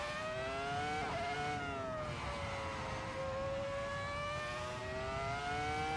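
A dominant race car's engine in a sim racing game drones loudly and continuously on a Tilke-designed circuit, its pitch climbing and dropping through gear changes with a brief shift blip early on.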